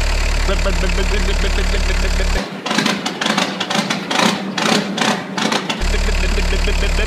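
A cold Peugeot Citroen 1.9D diesel engine with new glow plugs runs with a loud, close, steady idling clatter. Mid-clip the engine noise gives way to a few seconds of other sounds, then the idle returns just as strong.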